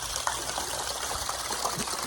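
Water gushes steadily into a bowl during cleaning of a pet bird's droppings tray, a continuous close splashing pour with a few brief louder splashes and no talk.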